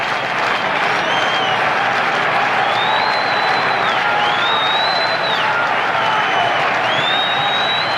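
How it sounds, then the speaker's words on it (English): A baseball stadium crowd at a 1978 Yankees–Angels game cheers and applauds steadily with a two-strike count on the hitter, a dense, loud roar with scattered whistles and whoops and no pause. "And now listen to the crowd again with a 2-strike count on the hitter."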